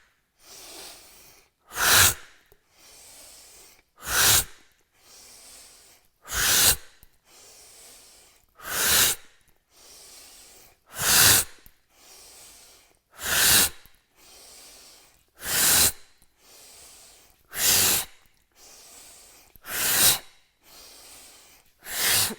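Deep yoga breathing exercise: a steady series of about ten forceful, sharp breaths repeats at an even pace of roughly two seconds each, close and clear, with soft quiet gaps between them.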